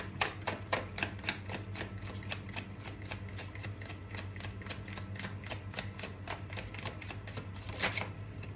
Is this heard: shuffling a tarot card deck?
yes